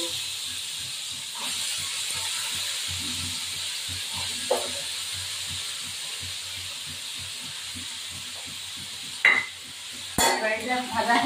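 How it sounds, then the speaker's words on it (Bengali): Potatoes with salt, then boiled banana flower, fry in a pan, giving a steady hissing sizzle with rhythmic scraping stirs. A few sharp utensil clinks come late. "এবার এটা ভাজা হোক"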